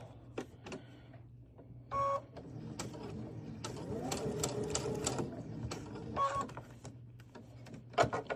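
A sewing machine stitching a quarter-inch seam, heard as short close whirring runs and a longer steady stretch of stitching, with clicks and faint beeps between them.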